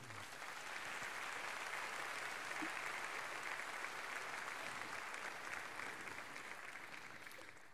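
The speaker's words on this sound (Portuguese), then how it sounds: "Você pode aplaudir a Ele?" A church congregation applauds steadily during a worship service, a faint, even wash of clapping that holds for several seconds with no speech over it.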